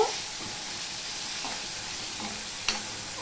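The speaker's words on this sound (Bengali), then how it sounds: "আর দিয়ে দিলাম এই টমেটো টুকু। দিয়ে আমি ভালো করে একটু নেড়ে নেব।" Chopped tomatoes with a little ginger sizzle and hiss in a hot pan on a home stove while being stirred, a steady frying crackle with a few soft scraping strokes and one sharp clink.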